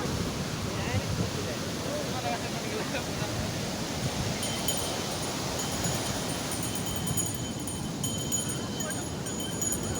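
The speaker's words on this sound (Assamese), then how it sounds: "পানী কিন্তু বহুত ঢৌ আহে চাওকচোন" Big sea waves at Kovalam beach in Kerala make a steady, wide roar of surf mixed with wind buffeting the microphone, with faint voices in the background.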